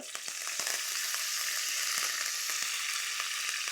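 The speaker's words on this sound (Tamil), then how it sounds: "இப்போது கருவேப்பிலை ஆட் பண்ணிடலாம் கருவேப்பிலை ஆட் பண்ணும்போது கொஞ்சம் டிஸ்டன்ஸ் கீப்பப் பண்ணிக்கோங்க" Curry leaves hitting hot oil already holding fried fenugreek, cooked for an Ayirai fish thokku, give a steady loud crackling sizzle with sharp pops throughout, close up and with no voices.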